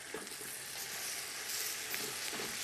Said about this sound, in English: Stir that all around, let that cook a little tiny bit.